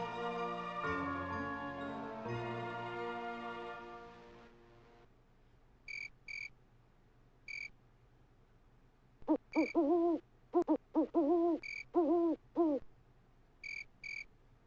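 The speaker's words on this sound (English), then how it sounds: "Even the sound effects are insulting that owl." An owl hooting sound effect in a 1996 production: a series of clear, repeated hoots, mostly in short bursts, following a fading musical passage, over a quiet background with a faint insect-like hum.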